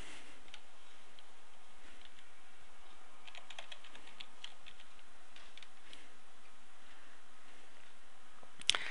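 Computer keyboard typing an admin username and password, with light clicky keystrokes in uneven bursts over a steady background hiss, close and moderately quiet.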